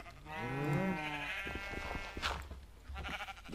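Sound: sheep bleating in the video game Minecraft

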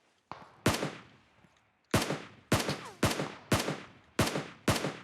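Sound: gunfire from the video game PUBG Mobile

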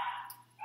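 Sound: dogs barking

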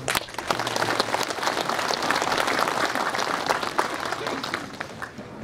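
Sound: audience applause at ceremony

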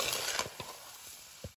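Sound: stirring petha pieces with sugar in a pan until it dissolves

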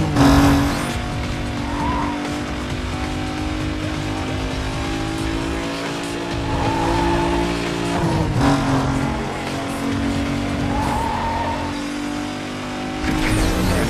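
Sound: racing car engine and tire squeal in Need for Speed Most Wanted video game

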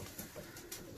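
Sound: racing pigeon cooing

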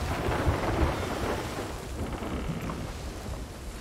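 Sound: thunderstorm at sea in Sea of Thieves video game

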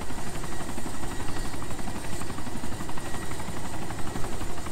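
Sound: helicopter flying in DayZ Epoch video game

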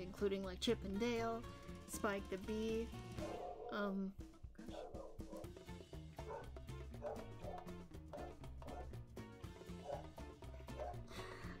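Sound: dog barking in the background

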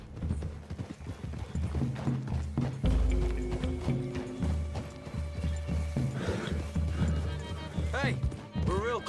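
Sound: horses' hooves in the video game Red Dead Redemption 2

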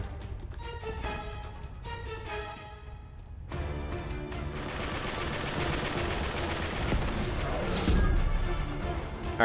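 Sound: gun blind firing in Uncharted 3 multiplayer video game

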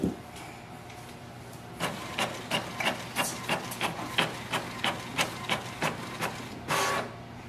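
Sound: Canon MAXIFY GX4040 printer printing a test page

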